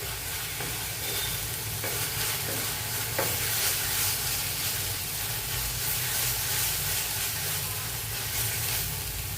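Ginger garlic paste fries in a pan for a mixed vegetable kurma, a continuous close sizzle with scattered stirring scrapes and spatters.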